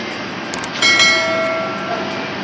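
A train pulls into a station in Odisha; a steady rolling rumble is joined about a second in by a sustained, high metallic squeal that rings on and slowly fades.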